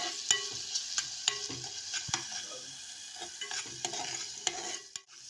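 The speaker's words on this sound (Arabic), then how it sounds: "هنحط معلقه ثوم مفروم كده كبيره، هنشوحها كده لحد بس ايه ما ريحتها تطلع" Minced garlic sizzles in hot oil with browned onions for a koshari sauce, a soft steady frying hiss broken by repeated spoon scrapes and stirring taps against the pot.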